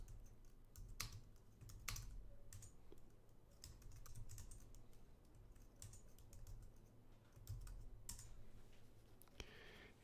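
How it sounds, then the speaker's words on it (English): Commands are typed on a computer keyboard in irregular bursts of crisp clicking keystrokes, heard close and quiet with no talking. "You can type any command you would normally type."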